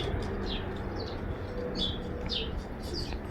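Racing pigeons arriving home after a 600 km race in Kirkuk, with short chirps and coos repeating over a steady outdoor background hum.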